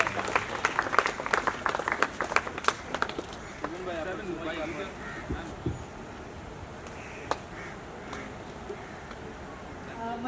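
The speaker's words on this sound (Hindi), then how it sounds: "बेटा तालियां रुकनी नहीं चाहिए." A crowd at a community event run by an environmental and humanitarian charity claps in a burst of sharp, close hand claps that thins out after a few seconds, while people talk over and after it.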